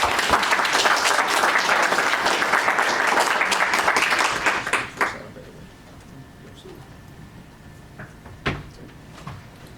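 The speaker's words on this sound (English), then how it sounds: "Everyone give Sarah a round of applause." A small business conference audience gives a round of applause, dense and steady for about five seconds before dying away, followed by a quiet room with a few faint knocks and movement sounds.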